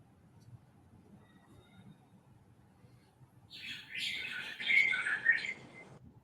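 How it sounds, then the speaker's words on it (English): Birds chirp and twitter in a busy burst over the last few seconds, after a quiet stretch with only a low background rumble. "I can just hear birds."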